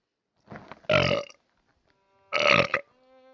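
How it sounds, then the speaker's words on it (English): Two long, loud, close burps, each a drawn-out guttural rumble with a pause between them, in an otherwise quiet space. "I hope y'all enjoyed that burp."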